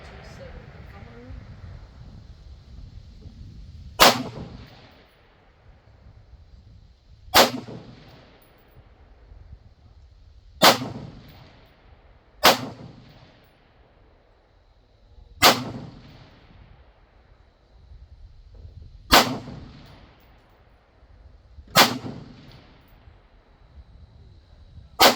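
Rifle shots at an outdoor range while testing a 1-8x LPVO scope, eight loud sharp cracks spaced a few seconds apart, each with a booming tail that rolls away, with quieter noise in between.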